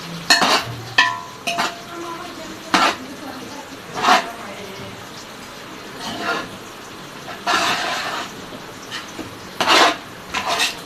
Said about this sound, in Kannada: ಫುಲ್ಲು ಎಣ್ಣೆಯಲ್ಲೇ ಅದು ಫ್ರೈ ಆಗಬೇಕು. ಹೌದು, ಚೆನ್ನಾಗಿ ಅಲ್ಲಾಡಿಸ್ಬೇಕು.